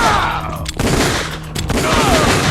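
Dense, loud gunfire rattles through the Metal Gear Solid: The Twin Snakes video game, with a continuous volley that briefly drops out twice and then resumes.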